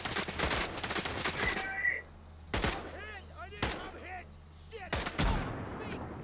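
Rifle fire in a survival shooter video game: a dense burst of rapid shots followed by several single loud reports with ringing tails, spaced a second or so apart.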